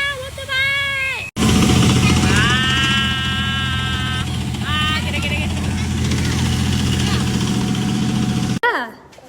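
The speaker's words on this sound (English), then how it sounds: "Drone flying." A drone flying over Northshore Drive in Singapore during a mobile column and fireworks display makes a steady, loud engine-like whine, with voices talking over it throughout.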